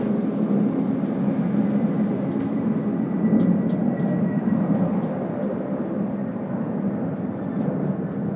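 A jet airliner takes off down the runway at Sydney Airport in high winds, its steady low broadband engine roar filling the whole stretch at a fairly loud, constant level without a clear rise or fade.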